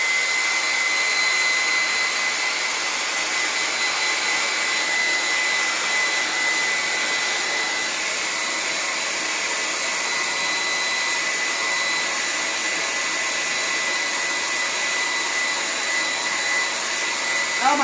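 A hair dryer blows steadily and loudly for the whole stretch, drying a door decoration transfer, with a constant airy whoosh and a faint high whine and no voices.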